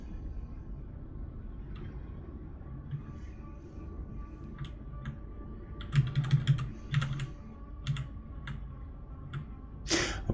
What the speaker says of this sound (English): It is a mechanical keyboard, so you will hear a lot of clacking from time to time.